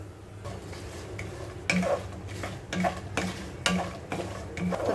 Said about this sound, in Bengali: বারবার নাড়তে বলা হয় এই কারণেই যেন চারোদিকে খুব সুন্দর করে ভাজা হয়